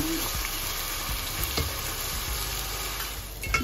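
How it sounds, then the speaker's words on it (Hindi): Tomatoes sizzle and fry in a pan for soya keema while a spoon stirs them, a steady quiet crackle with occasional scraping clicks and no talking. "टमाटर भी डाल देंगे और इसे भी चला लेंगे"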